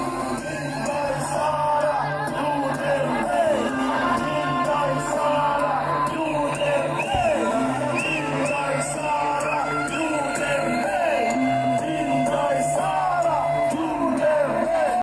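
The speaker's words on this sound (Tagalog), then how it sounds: "Pakinggan natin yung mga sinisigaw-sigaw nila dito po." A crowd of protesters at a prayer rally yells and chants, with many overlapping raised voices blending into a loud, continuous roar that carries throughout.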